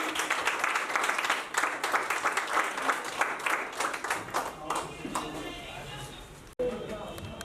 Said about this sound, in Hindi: सर के लिए जोरदार तालियां